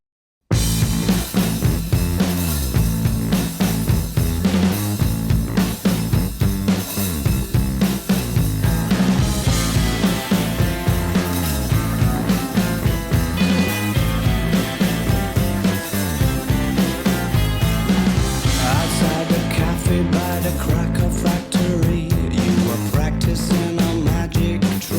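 A song plays continuously at full level, a dense rock band mix with a heavy, grungy low end, steady drums and guitars running throughout without pause.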